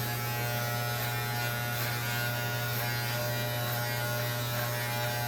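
An electric hair clipper fitted with a 1.5 guard buzzes steadily and close while blending a fade, a constant unbroken hum with no pauses.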